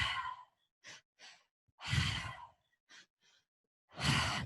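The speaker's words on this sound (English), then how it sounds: "Let that exhale be nice and powerful. We are only breathing through the mouth." Deep breathing exercise through the mouth, with a series of strong, close exhales and softer inhales in a steady rhythm, heard alone without talk.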